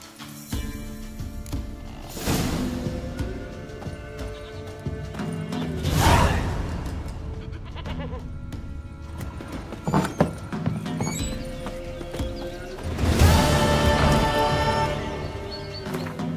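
Roach, the horse in The Witcher 3, gallops in rolling bursts of hoofbeats with several loud neighs and whinnies, close and clear amid game ambience.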